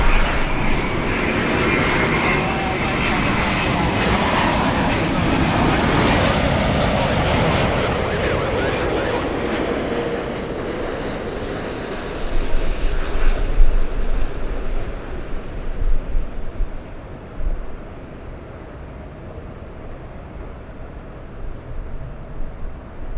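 A long-haul airliner arriving from Haneda lands at Los Angeles airport, a loud, broad engine roar passing close, then fading into rumbling reverse thrust and wind noise, with faint voices in the background.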